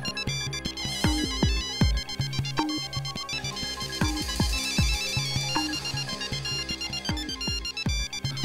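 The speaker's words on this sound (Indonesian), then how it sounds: "Yufrats, ponselmu berbunyi." A mobile phone ringtone plays a bright, melodic tune of repeating plucked notes with a steady beat, fairly clear and alone with no voices.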